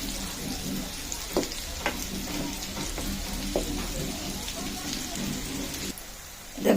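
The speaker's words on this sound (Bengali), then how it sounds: "এগুলো একটু লাল করে ভাজতে হবে।" Potato-filled flour rolls deep fry in hot oil, a steady crackling sizzle with occasional louder pops that carries on without a break, close and moderately loud.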